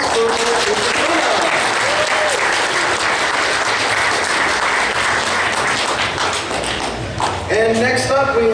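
Sustained applause from a convention audience at a costume contest, steady and dense for several seconds before a brief dip, with voices rising over it near the end.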